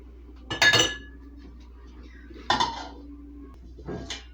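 A mixing bowl clinks and scrapes on a counter in two clear bursts with a softer third near the end, as it is shifted around before oil goes in with bread-roll dough.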